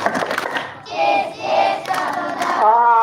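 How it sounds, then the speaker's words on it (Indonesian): Group of scout children performing the tepuk ceria clapping chant at a Pramuka campout at an elementary school in Padang, voices shouting in unison with rhythmic bursts and a sustained chanted tone at the end. "Tadi, tepuk ceria"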